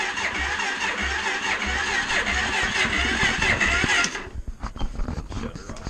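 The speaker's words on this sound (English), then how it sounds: "She wants to crank over" A Suzuki LTZ 400 ATV engine cranks over continuously for about four seconds, a loud, rough churning that then cuts off abruptly, leaving faint clatter and handling noise.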